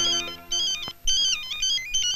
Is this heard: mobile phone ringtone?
yes